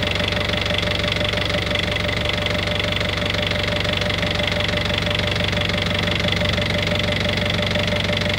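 A boat engine runs steadily after starting, giving a constant close mechanical hum with an even vibrating drone and no change in level throughout.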